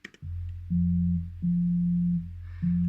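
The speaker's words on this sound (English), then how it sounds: "Next, I put the bass synth in, which sounds like this," A bass synth part made on the ES2 synthesizer with both oscillators set to sine waves: pure, smooth low tones stepping between pitches in a simple repeating pattern, heard alone and up close.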